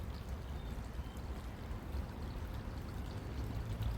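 Low river with little water flowing steadily, a continuous soft rushing and trickling wash at moderate distance with no voices.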